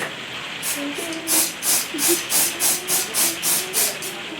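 A spray can hisses in a series of short, even bursts, about eight quick sprays in a steady rhythm, close and fairly loud.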